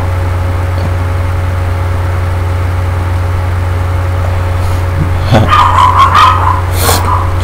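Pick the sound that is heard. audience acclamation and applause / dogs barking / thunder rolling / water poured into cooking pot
dogs barking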